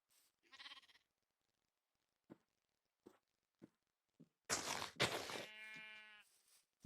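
Sheep in the video game Minecraft bleat, with a few soft clicks first and then two loud, close bleats in quick succession that trail off.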